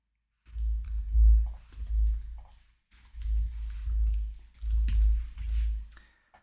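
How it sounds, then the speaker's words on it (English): Keyboard typing at a computer while entering OAuth credentials into Salesforce, a steady run of close clicking keystrokes in three bursts with brief pauses, no talking. "we'll go ahead and click new, and then we'll type in unsplash external"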